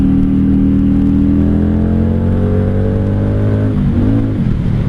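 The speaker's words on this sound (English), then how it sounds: "your bike sounds fun, sounds good" A 1995 Honda Shadow VLX 600 V-twin engine revs steadily and loud, then its pitch dips and rises again near the end as the throttle shifts, with no talking over it.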